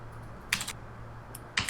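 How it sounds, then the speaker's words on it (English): Mechanical keyboard with clicky blue switches, typed in two short bursts of sharp clacks separated by a pause, over a low steady hum and no voices. "let me get out my clackier keyboard"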